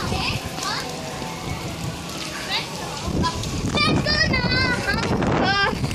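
Heavy rain pours down in a dense, continuous hiss and patter on surfaces close by, while voices, including children's, chatter over it.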